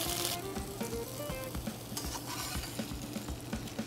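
Tofu pieces sizzle and spit steadily in a hot pan as they crisp, with an occasional utensil scrape and stir over the continuous frying hiss. No one talks.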